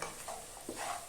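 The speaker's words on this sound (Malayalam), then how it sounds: "ഇളക്കി കൊടുക്കുക." Soya chunks for a roast are stirred in a pan with a spoon, giving soft scraping strokes over a faint, low sizzle, quiet and close with no voices.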